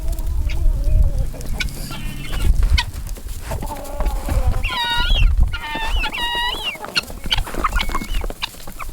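Chickens and guinea fowl on a Shenandoah Valley farm cluck and call nearby, with repeated harsh, pitched squawks in bursts over a background of shuffling and low noise.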